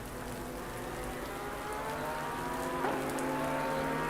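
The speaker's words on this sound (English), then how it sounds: "the rain is fairly heavy, and the track is fairly wet" Heavy rain hisses steadily over a wet track in a racing video game, a dense wash of noise with a faint engine drone beneath and no talk.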